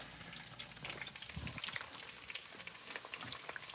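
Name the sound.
oil frying ingredients for chili crisp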